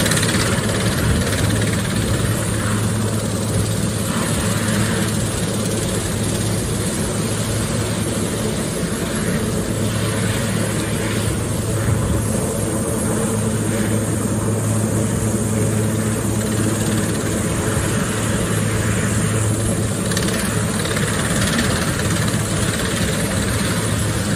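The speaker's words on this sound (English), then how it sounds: "A helicopter from the Spanish Navy before being decommissioned." A Spanish Navy helicopter, not long before its decommissioning, holds a steady, unbroken engine and rotor drone with a constant low hum throughout, loud and even, with no voices.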